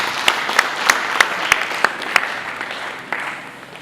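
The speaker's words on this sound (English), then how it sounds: "let us take that round of applause once again" A workshop audience of teachers applauds with a dense wash of clapping, marked by evenly spaced rhythmic claps that fade slightly toward the end.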